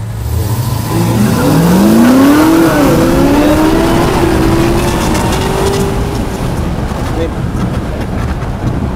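A 750-horsepower Chevrolet C10 truck with full independent rear suspension launching at full throttle, a loud close engine roar climbing steadily in pitch as it accelerates hard, then easing off with the revs tapering toward the end.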